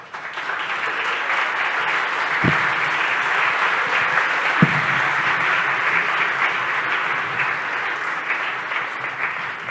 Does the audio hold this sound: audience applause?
yes